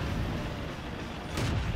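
A tank cannon shot in the video game World of Tanks, a dull booming blast over a steady low engine rumble, with a brighter burst near the end.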